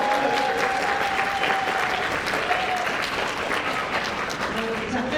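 An audience at a humanities lecture claps continuously, a broad sustained wash of applause with a faint tone running underneath, steady and moderately loud throughout.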